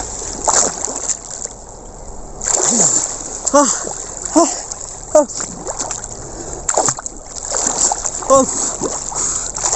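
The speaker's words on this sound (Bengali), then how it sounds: "এখন ডুব দেওয়া হবে।" Cold water splashes and sloshes as someone dives in, with people talking and calling out around it outdoors in a jungle.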